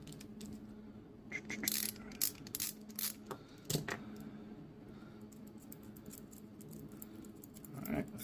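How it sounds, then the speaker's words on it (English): Small metallic clicks and rattles from unscrewing a part of a compact multipick tool, coming in irregular close bursts with a sharper clack midway and another near the end. "Just unscrew this one"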